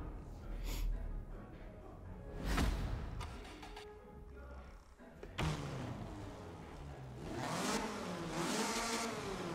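A Toyota Celica GT engine in Forza Horizon 4 revs repeatedly, rising and falling in pitch with sharp bursts, fairly close and loud with some breathy background noise.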